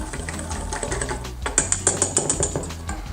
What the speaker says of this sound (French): on va déjà mélanger toutes ces farines ensemble